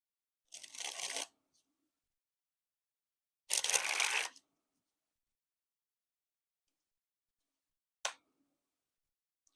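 Two bursts of a Franken Deck of playing cards from PlayingCardDecks being shuffled, then a short snap of cards, with quiet pauses between.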